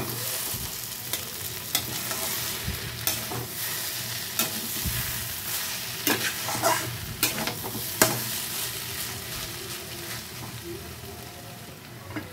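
A spoon stirs taro curry ingredients in a pan, with rhythmic scraping strokes and soft sizzling underneath, close and fairly quiet, with no talk.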